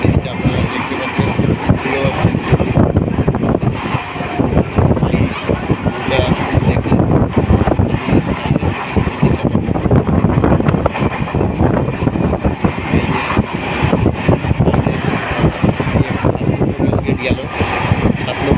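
A moving train rattles and roars continuously, mixed with strong buffeting wind noise from an open window, loud and steady, while a voice speaks over it.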